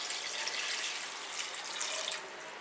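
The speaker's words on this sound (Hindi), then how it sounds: "अब इसमें हम डालते हैं पानी," Water pours into a pot of Nagpuri Saoji chicken curry, a steady, close splashing and trickling rush that runs unbroken for the whole moment without any talk.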